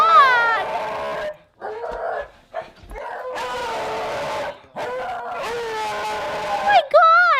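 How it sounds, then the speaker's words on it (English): A dog close by gives a run of excited whining yips, whimpers and short barks in repeated bursts, with people's voices mixed in around the calls. "Oh my God, this dog!"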